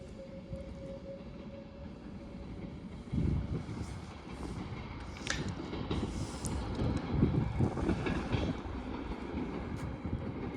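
A train pulls out of Stockport station toward London Euston, with rumble and wheel noise building steadily, a faint high squeal and scattered clanks over continuous rolling sound, and no talk.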